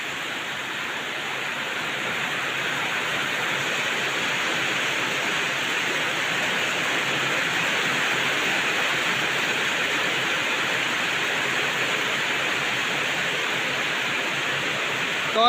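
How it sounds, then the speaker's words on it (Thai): Steady, dense hiss of heavy rain pouring without pause, a constant broadband wash with no voices. "ในเบื้องบรรยากาศฝนตก"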